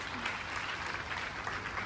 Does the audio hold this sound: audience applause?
yes